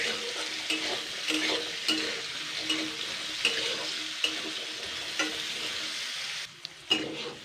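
Fish oil frying with salt in a pan: a constant hiss of sizzling with regular spoon strokes scraping through it roughly once a second, close up, with a short pause near the end.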